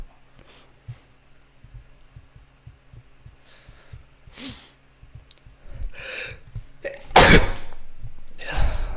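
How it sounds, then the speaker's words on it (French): A person sneezes at a desk while playing Minecraft. There are soft breaths and quiet mouse or keyboard clicks, then one sharp, loud, close sneeze burst near the end, followed by breathy rustling. "désolé pour l'éternuement"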